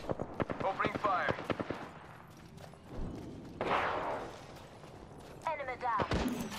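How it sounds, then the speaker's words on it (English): Bursts of automatic gunfire in the battle royale shooter Apex Legends: rapid, sharp shots in clusters at the start and again near the end, with game voice lines and other effects in between. "Hostile right here. Opening fire."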